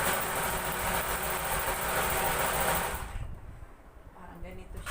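Sewing machine bobbin winder winding thread with a steady whirring motor hum that stops partway through, followed by quieter handling sounds.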